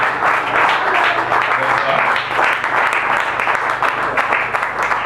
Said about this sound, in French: Avec vos acclamations, avec vos acclamations